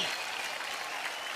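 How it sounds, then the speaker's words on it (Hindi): A brief burst of dense, steady clapping from a large award-show audience applauding actor Ranveer Singh in Dubai, the hands blending into a continuous roar. "जोरदार तालियां हो रणवीर सिंह के लिए।"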